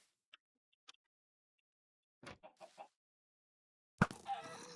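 Chicken clucks in a blocky sandbox video game: a few faint ticks, then a quick run of four soft clucks, followed by a louder, harsher burst of game noise at the end.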